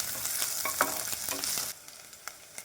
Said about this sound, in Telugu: అల్లం వెల్లుల్లి పేస్ట్ వేసుకోవాలి.